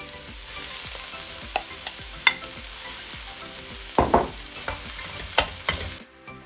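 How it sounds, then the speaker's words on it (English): Cooked rice being stir-fried with mushrooms in a pan, a continuous sizzle broken by irregular scraping and tossing knocks from the spatula, close and fairly quiet, with no talking. "Now I'm going to add in the completely cooked rice."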